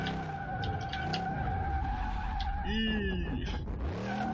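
Tires on a Dodge Charger in Car Mechanic Simulator 2018 squeal in a sustained skid, with a strained engine note behind them, loud and close throughout.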